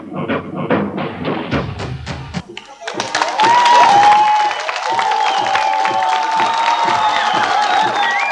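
A studio audience at a 1996 Russian TV video-game tournament breaks into applause for the winner, loud sustained clapping with cheering and music, following a stretch of rhythmic thumping and voices.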